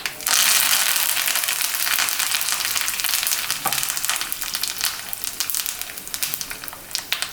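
Mustard seeds, urad dal, chillies and fresh curry leaves tempering in hot oil for South Indian curd rice, giving a loud, close, steady sizzle with crackling pops and no voices.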